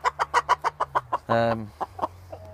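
Chickens cluck in a steady run of about a dozen short, fairly close calls. One longer, louder squawk sits in the middle. No one speaks.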